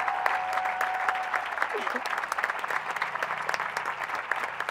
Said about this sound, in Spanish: un aplauso para ellos que han empezado con nosotras el proyecto